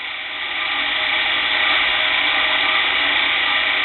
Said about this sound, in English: hold the file against the axle shaft, not too hard but a firm press, and take your first cut